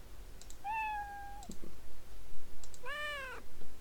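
Two clear, close cat meows from a Scratch game sound library play alone over soft clicking, a drawn-out single meow followed by a shorter, rising one.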